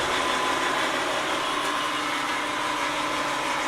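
A Blanchard model 18-36 rotary surface grinder with a vertical spindle and a 36-inch wheel runs with a steady, loud, broadband machine roar and whine, continuous and unchanging, with no talking.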